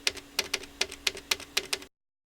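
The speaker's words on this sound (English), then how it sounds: "I'm going to tap on the front panel of my Axe FX3 using the enter key" Repeated tapping on the enter key of an Axe-Fx III front panel, about ten light clicky taps in a loose rhythm, each followed by a short ringing echo, close and fairly quiet.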